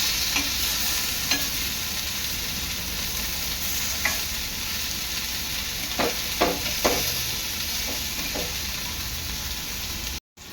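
Prawns fry in a pan at home, giving a loud, continuous sizzle close up, broken by a few clinks and scrapes as the pieces are stirred and turned, with no talk.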